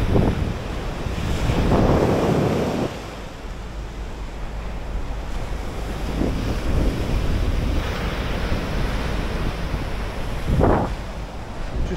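Waves and gusting wind on a Black Sea beach, with surf swelling and breaking in loud washes under constant heavy wind noise buffeting the microphone.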